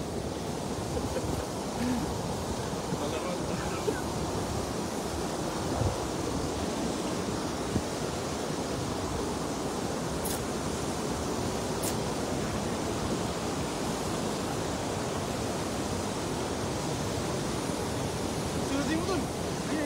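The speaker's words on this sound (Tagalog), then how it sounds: "Hindi talaga mapalayo kasi gawa ng malakas ang hangin doon." Strong wind blowing at an outdoor carp fishing spot, a continuous broadband roar with steady gusting texture lasting throughout, with occasional faint voices in the background.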